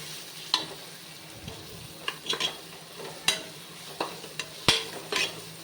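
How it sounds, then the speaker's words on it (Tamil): Ginger garlic paste frying in ghee in a pan for banana flower biryani, with soft intermittent sizzling and a few scraping stirs of a spoon against the pan, close and fairly quiet, no talking. "இஞ்சி பூண்டோட பச்சை வாசனை போகிற அளவுக்கு உங்களுக்கு நீங்கள் இதை நல்லா ஃப்ரை பண்ணணும்."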